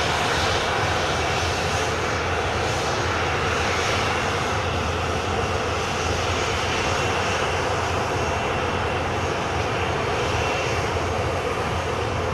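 An airplane takes off from runway 07 at Montego Bay, Jamaica, its engines a loud, continuous broadband roar that holds steady throughout with no voices.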